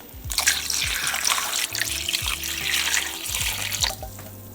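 Beef broth pours steadily into a cooking pot for a braised teriyaki chuck roast, a continuous close liquid splash with a few soft clinks underneath, no talking.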